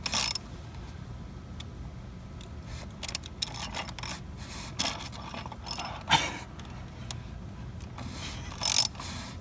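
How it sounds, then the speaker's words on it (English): A worn ratchet wrench clicks during an oil change on a Jeep JK, sparse irregular metallic clicks and clanks scattered over faint background noise. "This ratchet is terrible."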